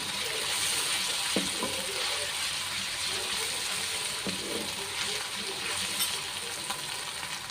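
Garlic ginger paste fries in a pan with golden-browned spinach for palak gosht, a beef dish, with a steady, bright sizzle and occasional stirring scrapes throughout.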